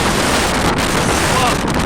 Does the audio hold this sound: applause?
no